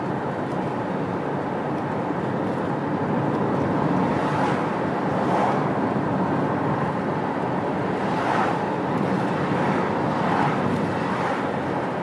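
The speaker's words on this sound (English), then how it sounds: "We're driving on Route 127, headed south." A car drives south on Route 127 leaving Rockport, Massachusetts, giving a steady, loud broadband rumble of road and wind noise from inside the cabin, with gentle swells in intensity and no talking.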